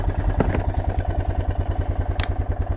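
A Honda Foreman 400 ATV engine idling steadily just after starting, with a close, loud, even low-pitched rhythmic chugging and a few light mechanical clicks on top.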